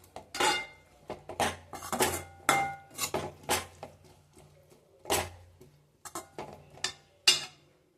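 A cooking pot of cauliflower gravy is covered with a plate as a lid, with a series of close, sharp metallic clinks and clatters at an uneven rhythm and no voices.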